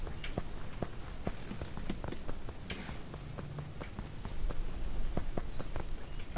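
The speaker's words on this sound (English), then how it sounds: "Do you hear the footsteps?" Footsteps cross varied terrain in the video game Aveyond 4, a steady series of distinct clopping steps at a walking pace, moderately close over quiet ambience.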